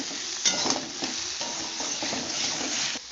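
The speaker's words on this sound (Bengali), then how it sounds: "কেটে রাখা সিমগুলোকেও দিয়ে দেব ওর মধ্যে লবণ দেবো আবারও নাড়বো" Chopped flat beans with onion, garlic and salt are stirred in a hot pan: a continuous soft sizzle with a few scraping utensil strokes, close and moderately quiet.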